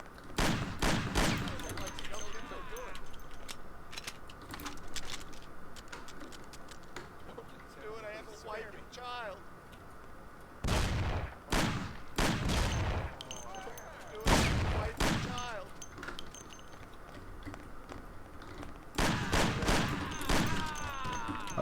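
Gunfire in Mafia: The City of Lost Heaven, repeated bursts of loud rapid shots in several clusters separated by quieter gaps, with a voice talking between the volleys.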